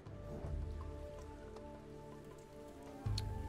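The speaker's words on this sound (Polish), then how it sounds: "Pada, co nie jest idealne" Steady rain falls in the prehistoric survival game Dawn of Man, a continuous soft patter of drops over a low ambient hum, with no voices.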